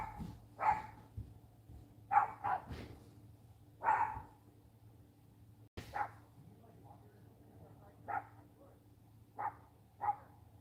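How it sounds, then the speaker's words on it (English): A dog barks repeatedly in irregular bursts, a dozen or so sharp barks, fairly close, with a low hum underneath. "Sheena just wouldn't stop barking at Dakota for some reason."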